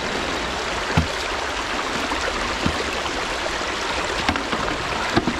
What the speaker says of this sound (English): let the sluice run its course